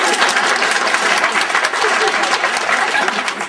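A women's audience at a Women's Day event at The Pavilion in Polokwane claps steadily, a dense, continuous round of applause that holds at even loudness throughout, with faint crowd murmur beneath.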